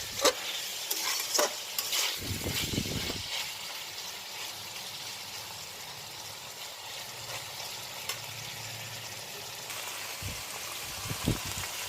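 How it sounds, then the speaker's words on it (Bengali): Vegetables being stirred in a pan with vinegar, soy sauce and chili sauce for vegetarian chow mein, a soft wet sizzle under repeated scraping and clinking of a spatula against the pan, close and irregular, with no talking. "এবার ভিনিগার সোয়া সস আর চিলি সসটা ভালো করে সবজির সাথে মিশিয়ে নিতে হবে"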